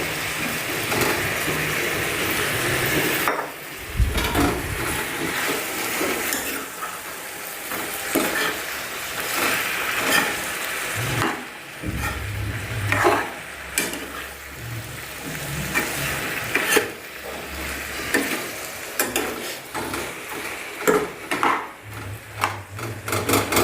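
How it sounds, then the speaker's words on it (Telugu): Eggplant pieces are tipped into a hot pan and stirred, giving an irregular run of scraping, sizzling and knocking from the spoon against the pan, close and steady throughout. "ఇప్పుడు మనం వంకాయ వేస్తామండి"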